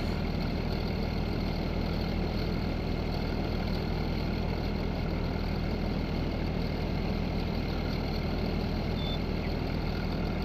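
A tractor engine in Farming Simulator 19 runs at a steady, even drone, loud and constant throughout with no change in pitch or rhythm.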